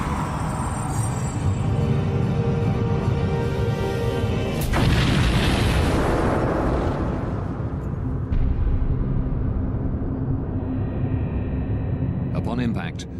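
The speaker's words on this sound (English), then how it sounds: "Upon impact, the Bashkirian charter breaks into 4 pieces." Mid-air collision between a Bashkirian charter airliner and a DHL cargo plane: a loud, sustained roaring impact with a sharp burst around midway and rumbling debris noise throughout, a voice talking over it.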